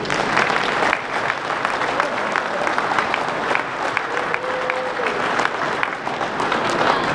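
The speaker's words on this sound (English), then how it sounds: "let's have a round of applause for Rich Pearson" A crowd at a gun owners' lobby day gathering in a rotunda breaks into sustained applause, dense clapping that fills the space steadily for several seconds, with faint voices mixed underneath.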